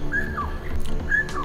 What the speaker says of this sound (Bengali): অনেক রকমের পাখির ডাক শুনতে পাচ্ছি